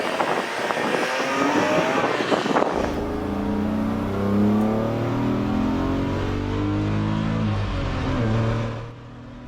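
A race car at the Nürburgring on a gentle warm-up lap, engine revving loudly up through the gears with rising and falling pitch sweeps, close and continuous, after a short burst of rattling mechanical noise at the start.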